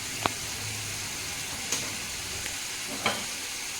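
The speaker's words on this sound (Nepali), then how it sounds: "फर्स्ट अफ अल चाहिँ मैले फ्राई गर्छु खोर्सानी" Green chillies frying in oil for a Nepali achar, a steady moderate sizzle with a few brief spatters and stirring clicks.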